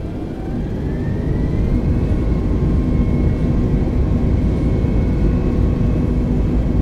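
A Philippine Airlines Airbus A320neo taking off, a steady loud low engine roar building slightly at the start and then holding, with a faint whine rising above it and no talk.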